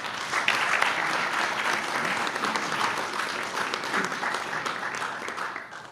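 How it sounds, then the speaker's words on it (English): An audience at a National Press Club luncheon gives a warm, full round of applause, dense clapping that holds steady for several seconds and then tapers off at the end. "give them a warm round of applause"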